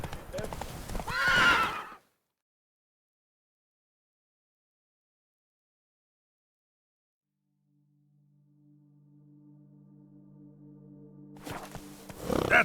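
Roach, the horse in The Witcher 3: Blood and Wine, clops and whinnies in a short burst, followed by a long silence, then a swelling tone and renewed hoof noise at the end.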